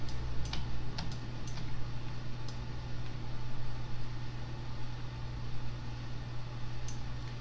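Computer keyboard arrow keys tapped with Shift held while stepping through frames of a Toon Boom Harmony 15 walk-cycle animation: sparse, sharp clicks scattered over a steady low electrical hum.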